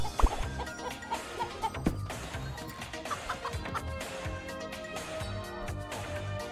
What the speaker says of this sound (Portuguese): Caralho, tem um frango.